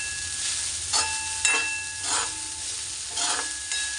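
Vegetables with turmeric sauté in a pan for a quick dried-goods vegetable dish, giving a steady close hiss broken by several sharp scraping stirs at regular intervals, with no talking.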